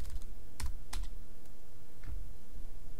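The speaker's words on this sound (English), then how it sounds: "Let's clear all this out here and just type in marketing." Close, quiet keystrokes on a computer keyboard, a few scattered clicks tapped in short irregular bursts with pauses between them, over a faint steady background hiss.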